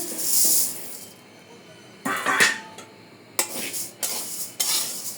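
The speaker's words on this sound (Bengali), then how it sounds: "মুগ ডাল ভাজার জন্য এখানে আড়াইশো গ্রামের থেকে একটু কম মুগ ডাল আছে একটু ভাজিয়ে নেব" Mung dal rattles and scrapes in a pan as it dry-roasts in short bursts, with a spoon clinking against the metal between quieter stretches.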